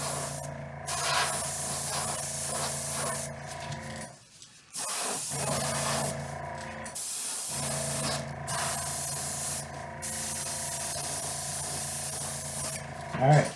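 A light base coat of paint being sprayed in several sustained hissing bursts separated by short pauses, close and fairly loud with no talking.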